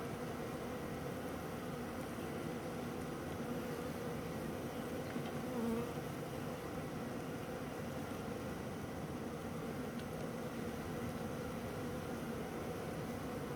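Honey bees swarm and buzz around an open hive as it is filled through a funnel, a steady, dense drone holding close and even throughout with no voices.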